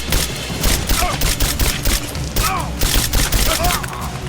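Rapid, dense gunfire fills a Rise of the Tomb Raider firefight, a continuous crackle of close shots with sharp repeated bursts throughout, with shouted voices mixed in.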